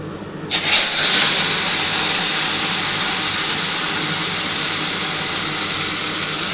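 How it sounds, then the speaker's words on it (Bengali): Small morola fish drop into hot oil in a pan, setting off a sudden loud sizzle that settles into a steady close frying hiss with no talking. "এবার কিন্তু আমি মোরলা মাছগুলো ভেজে নিচ্ছি"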